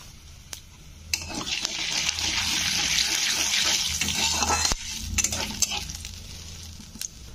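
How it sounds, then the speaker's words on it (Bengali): Whole cumin seeds sizzle and crackle in hot oil in a pan, a steady bright hiss swelling after a clatter and fading with a few clinks of a spoon. "তো গোটা জিরেটা একটু ভেজে নিতে হবে।"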